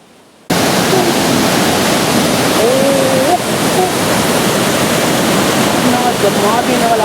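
Glacier meltwater rushes down a stream in Upper Dir, Pakistan, a loud, continuous broadband roar that starts abruptly and holds steady, with faint voices and whistle-like tones over the water.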